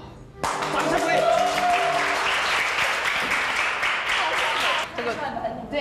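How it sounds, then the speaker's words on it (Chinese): A television variety-show studio audience bursts into applause, dense steady clapping and cheering filling the room for about five seconds, with a voice and a sustained tone audible at the start. "掌声鼓励。"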